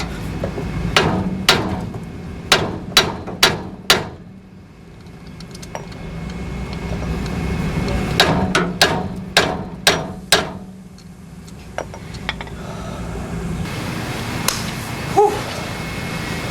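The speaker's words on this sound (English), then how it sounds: "with an air hammer, pickle fork, they all came apart" Sharp repeated air hammer bursts separating front-end parts of a 1979 AMC AMX in two clusters, rapid metallic blows separated by a quieter stretch of workshop background noise.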